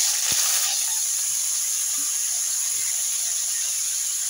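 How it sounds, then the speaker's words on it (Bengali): Potatoes drop into hot oil spiced with cinnamon, cardamom and cumin, giving a steady close sizzle and hiss that holds at an even level throughout, with a faint clink near the start. "তারপর আমি আলুগুলো দিয়ে দেবো।"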